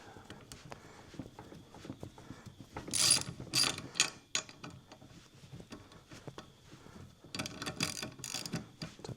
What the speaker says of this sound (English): so I had to loosen the U-bolts